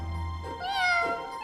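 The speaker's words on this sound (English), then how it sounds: "They're little kittens!" Kittens in a children's cartoon give one clear, drawn-out meow, close and moderately loud over a soft background.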